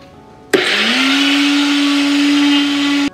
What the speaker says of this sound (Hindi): अब मैं ओट्स को पाउडर के फॉर्म में कन्वर्ट कर दूंगी अच्छे से ब्लेंड करके।